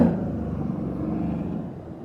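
A car drives past, making a low steady engine rumble that stays close and fairly loud for a couple of seconds before easing slightly, with no voices over it.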